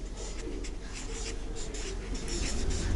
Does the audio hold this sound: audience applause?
no